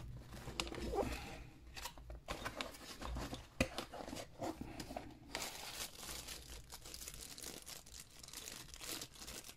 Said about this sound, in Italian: Apriamo la confezione.